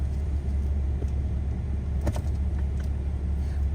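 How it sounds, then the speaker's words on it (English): Traffic rolls through the Whittier tunnel in Alaska as a steady low rumble of vehicles, a continuous close drone with a few faint clatters. "Traffic is coming through the tunnel right now"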